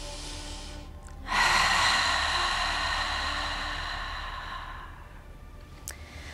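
Ujjayi yoga breathing through a slightly contracted throat: one long, steady, hissing breath, close and moderately loud, that swells quickly and then slowly fades over several seconds, with a softer breath sound near the end.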